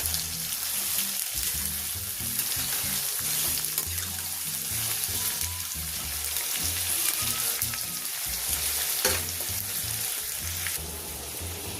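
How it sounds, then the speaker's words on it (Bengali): Onions frying in hot oil for chicken biryani beresta, a steady close sizzle with scraping and stirring knocks throughout, no voices. "এবার আমি নাড়াচাড়া করে বেরেস্তাটা তৈরি করে নেব"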